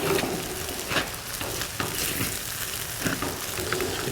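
Shrimp fried rice stir-frying in a pan: a steady loud sizzle with repeated scraping and tossing strokes of a spatula at an uneven rhythm, close and continuous, with no talk.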